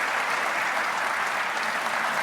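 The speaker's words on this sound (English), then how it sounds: "Let's give Philippe a big round of applause." Steady applause from a conference audience fills the hall for a hacking talk, a dense, even roar of many hands clapping with no break.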